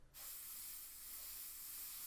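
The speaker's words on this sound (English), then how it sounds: "Do a test spray," An airbrush gives a test spray onto a kitchen towel before painting a Dragon 1/35 M4A3 Sherman scale model, a soft, steady close hiss that starts abruptly and holds for about two seconds.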